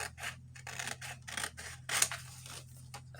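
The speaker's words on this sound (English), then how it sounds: "cut this out and see" Scissors snipping out a paper card from a songbird craft kit, a run of short crisp cuts in an irregular rhythm, close and fairly quiet over a low steady hum.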